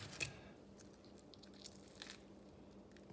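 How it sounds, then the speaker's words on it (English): Someone bites into crunchy air-fried chicken wings just cooked in a toaster-oven air fryer, giving a few quiet, close crisp crunches and soft chewing with no talk. "Talk about crunchy, and look at the moisture inside."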